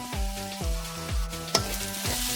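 Masala spices sizzling in a pan while being stirred, a steady frying hiss broken by regular scraping strokes of the spoon roughly every half second.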